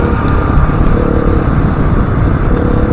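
Honda 450L-class dirt motorcycle engine running steadily and loud up close, a continuous broadband roar with no pauses and no voices.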